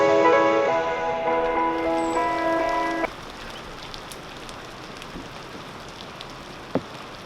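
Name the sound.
heavy rain pouring outside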